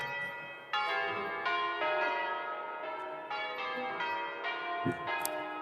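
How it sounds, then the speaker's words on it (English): Church bells ring out in repeated, resonant strikes, each toll overlapping the fading hum of the last, steady and fairly distant. "the bells are ringing a number of times equal to the number of COVID in my hometown"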